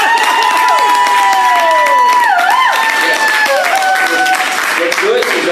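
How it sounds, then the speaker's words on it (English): A live audience at a FIBI Long Beach real estate investor event bursts into loud, sustained applause and cheering, with high shrill whoops and screams rising above a dense wash of clapping throughout. "by a round of applause and energy, give everyone an understanding of how much fun they're going to have tonight."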